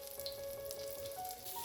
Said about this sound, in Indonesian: masukkan satu persatu daging ayam yang sudah tertutup oleh adonan tepung ke dalam minyak panas